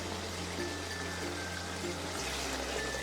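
Boiling water streams steadily from close by into a pot of rice being cooked as kabsa, a continuous pouring trickle that changes pitch slightly as the level rises, with faint background hum.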